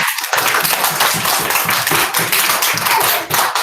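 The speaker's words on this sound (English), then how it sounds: "Can we give Annabelle a clap?" Applause for Annabelle at a primary school celebration assembly, a dense steady patter of many hands clapping close by, filling the whole stretch without a break.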